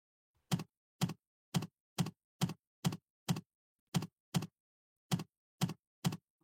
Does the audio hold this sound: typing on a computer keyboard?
yes